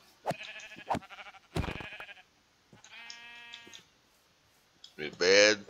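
Sheep bleat in the video game Minecraft, several short calls spaced across the clip with one louder bleat near the end, with voices talking in between.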